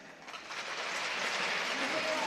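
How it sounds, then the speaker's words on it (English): Crowd applause and cheering at a women's ice hockey semi-final in Adelaide, a steady wash of clapping that swells and stays loud throughout, with a voice speaking over it. "Great applause here as Michaela Fellows will drop the puck here."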